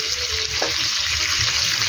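A chicken leg piece fries in a small frying pan with a steady, loud, dense hiss of sizzling oil throughout, close up and uninterrupted.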